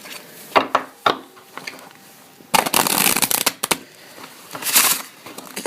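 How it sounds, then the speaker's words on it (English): Playing cards riffle shuffled close by, with a few quick snaps followed by a dense fluttering burst of cards interleaving, then another softer riffle. "riffle shuffle and keep their card on top of the deck"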